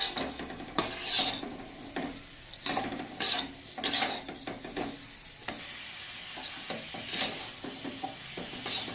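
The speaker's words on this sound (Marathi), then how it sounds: "तर याला आपल्याला असं सारखं हलवत राहायचं बघा" Coconut barfi mixture being stirred in a pan over a low flame, with steady repeated scraping strokes and a soft sizzle running throughout, close and fairly loud, no talking.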